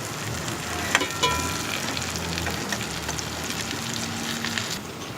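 A bread omelette for a breakfast sandwich fries in a pan, a steady close crackling sizzle with a few clicks of a spoon as it is turned, no one speaking.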